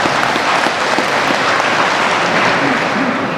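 Continuous applause from a seated audience at an Islamic New Year gathering, steady and dense throughout with no pauses or voices standing out.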